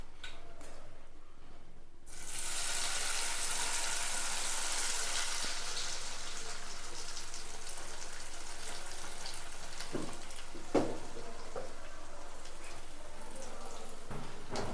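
Masala-coated dried anchovies (nethili karuvadu) hit hot oil, and a loud, bright sizzle bursts in after a quiet start, then hisses steadily with a few clinks from the pan.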